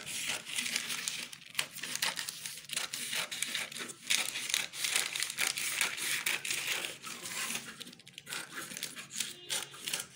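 Scissors cut through sheer organza fabric along a pattern piece for a wrap top, giving a steady run of close, crisp crinkling and snipping rustles with no talk.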